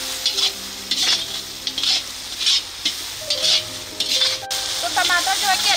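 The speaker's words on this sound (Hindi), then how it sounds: "अब अच्छी तरीके से हम मसाले को मिला देंगे।" Masala with turmeric powder is stirred in a frying pan, a spoon scraping in repeated rhythmic strokes over a steady sizzle, close and clear, with no talking.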